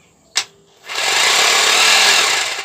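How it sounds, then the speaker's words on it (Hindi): A Foster FHD 2-26 DRE hammer drill gives a sharp click, then spins up into a steady, loud, close whir that holds for about two seconds before easing slightly. "आप साउंड से भी देख सकते हैं ड्रिल में वाइब्रेशन हो रहा है।"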